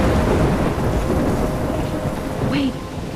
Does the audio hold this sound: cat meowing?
no